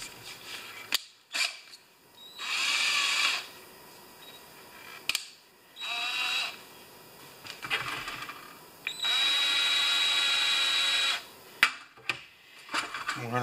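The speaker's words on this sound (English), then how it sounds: "We're going to polish this seat." A power drill polishing a valve seat on a Honda E3500 generator whirs in several bursts of a few seconds each, starting and stopping repeatedly, with clicks and handling noises between runs.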